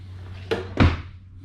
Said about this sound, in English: you've got full extension ball bearing drawer guides on every trailer